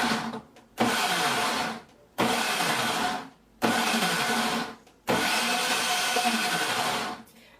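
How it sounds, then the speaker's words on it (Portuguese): A household blender whirs in four loud bursts of a few seconds each, separated by short pauses, mixing a small half batch of sugar-free, gluten-free, dairy-free cake batter. "Vou bater aqui no liquidificador"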